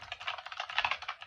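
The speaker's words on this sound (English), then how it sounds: "mechanical keys, very clicky, as you can hear" Rapid typing on a Naccon CL-750 clicky mechanical keyboard, a dense run of crisp bright clicks at a quick even pace, close and clear with nothing else audible.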